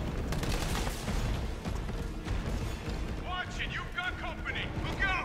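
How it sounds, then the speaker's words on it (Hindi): Rapid bursts of gunfire in the Resident Evil 3 Remake final boss fight against Nemesis, loud and dense over game music and effects, with someone talking excitedly throughout. "पहले आग लगाते हैं, फिर बाद में गोलियां मारते हैं इसको।"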